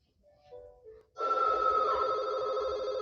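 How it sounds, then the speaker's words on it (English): From the 1996 horror film Scream, a telephone bell begins ringing after a brief faint tone, a loud sustained electronic trill that carries on to the end with no talk. "The movie begins with a phone ringing, and when Casey Becker answers it"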